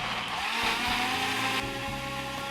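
A blender whirs loudly and steadily grinding onion and ginger with a little water, its motor pitch shifting slightly as it grinds, with no talking.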